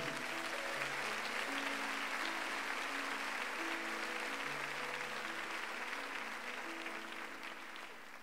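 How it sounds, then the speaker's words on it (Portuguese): Congregation applauding during a church service, a steady wash of clapping held for several seconds over sustained music, gradually easing toward the end. "Pode aplaudir forte ao Senhor por isso."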